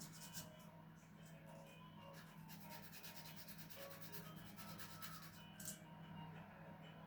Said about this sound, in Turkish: Bakalım şimdi biraz da zımparayla temizleyeyim çapaklarını